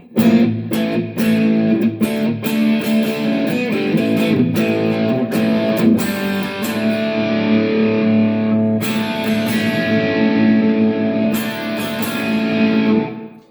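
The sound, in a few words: electric guitar through overdrive pedal effect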